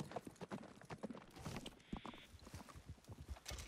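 Faint horse hoofbeats clop along at a trotting pace in the video game Red Dead Redemption 2, beneath other background noise, with a brief tonal hum in the middle.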